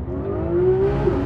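A Porsche GT3 RS on Michelin Pilot Sport Cup 2 tyres launches and accelerates, its engine note rising steadily in a loud, close, smooth whine without pauses.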